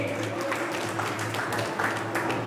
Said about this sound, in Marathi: प्रकाश दुर्लभ सोनवणे, दीपक नामदेववाल यांच्यासाठी टाळ्या